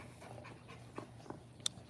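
Pit bull puppies pant steadily in soft rapid breaths close by, broken by a few faint whimpers and small clicks, with no voices over them.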